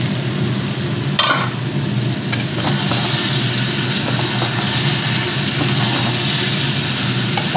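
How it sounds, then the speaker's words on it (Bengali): Pakoras frying in a pan of sauces give off a steady, fairly loud hiss and sizzle, broken by a couple of sharp clatters as they are added and stirred, with no speech. "এবার আমি পকোড়াগুলো দিয়ে দেবো।"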